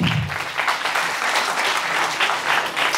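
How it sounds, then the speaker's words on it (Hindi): A seated audience at a climate change talk claps in a dense, steady burst of applause, loud and sustained throughout. "आप सबके लिए जोरदार ताली ना"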